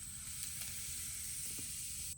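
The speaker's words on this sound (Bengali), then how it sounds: "এবার ফোড়নে যাবে হচ্ছে জিরে" Cumin seeds sizzle in hot oil for tempering, a faint, even hiss that runs unbroken for about two seconds with no voices.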